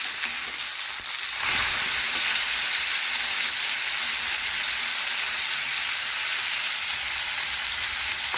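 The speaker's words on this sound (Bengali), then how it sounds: "একটু মাছগুলো কড়া করে ভাজতে হবে" Fish pieces frying crisp in hot oil in a home kitchen, a dense, steady, close sizzle and hiss that swells briefly early on, then continues evenly without any voices.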